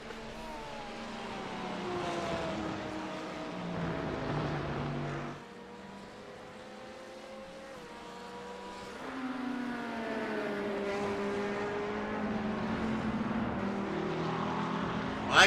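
GT3 race cars, a McLaren and a Corvette, run hard at Road America, with loud engine notes rising and falling steadily as the cars accelerate, shift and brake through the corners. A brief lull comes midway before the roar builds again.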